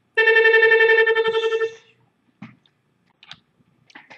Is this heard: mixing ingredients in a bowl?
no